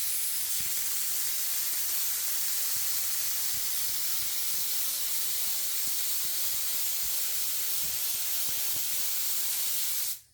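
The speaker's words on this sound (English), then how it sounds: "we actually take the spray and we spray at a long angle, not directly down onto the material" Spray adhesive hisses steadily from a can aimed at a low angle onto vinyl seat material, a continuous even hiss lasting about ten seconds before stopping abruptly.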